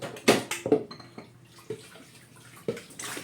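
A smoothie is poured into a big mug, with wet glugging splashes, a few soft clunks and drips in short irregular bursts, close by and with no talking.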